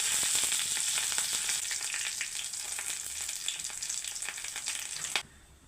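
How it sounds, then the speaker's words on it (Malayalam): Mustard seeds, small shallots, dried red chilies and curry leaves sizzle and crackle in hot oil for a rasam, a loud steady frying hiss with popping bursts that cuts off abruptly near the end. "കുറച്ച് കടുക് ഇട്ട് കൊടുക്കാം. കുറച്ച് ചെറിയ ഉള്ളി ഇട്ട് കൊടുക്കാം. 2 വറ്റൽമുളക് ഇട്ട് കൊടുക്കാം."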